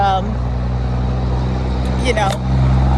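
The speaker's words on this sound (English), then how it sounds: "The trucks, they're so loud." Loud, steady rumble of heavy trucks passing on the road, with a low engine drone filling the whole stretch and a voice speaking briefly over it.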